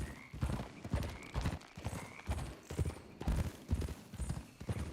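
Video game horse from Red Dead Redemption 2: hooves clop in a fast, steady galloping rhythm, close and fairly loud, with the horse whinnying partway through.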